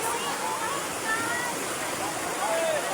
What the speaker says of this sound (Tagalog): kusog na jud kay baha.